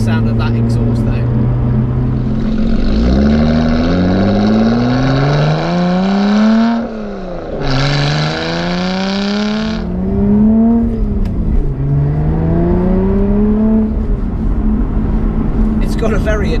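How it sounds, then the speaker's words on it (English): A Lotus Evora with its stock exhaust, driven on wet roads, rising and falling as the engine revs through the gears, loud and close from inside the car, with someone talking over it. "What I am liking is the sound of that exhaust though."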